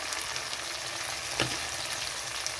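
Garlic, onion, tomato and ginger paste frying in a pan, a steady close sizzle with one brief stir or clatter midway.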